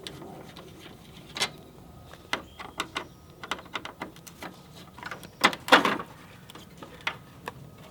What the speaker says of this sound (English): Let's remove this with a Phillips screwdriver.